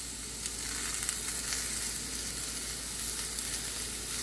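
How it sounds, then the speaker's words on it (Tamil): Curry leaves, garlic and onions sautéing in oil with salt for puli kuzhambu, a steady close sizzle and crackle running without a break and with no talk. "கருவேப்பிலை, வெங்காயம், இது மூணுத்தையும் கொஞ்சம் வதக்கி விட்டுருங்க."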